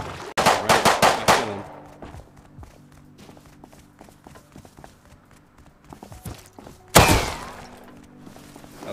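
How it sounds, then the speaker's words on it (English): Gunfire in the survival video game Rust: a rapid burst of five or six loud shots, then quiet footsteps and movement, then one more sharp, loud shot near the end. "I shot him once."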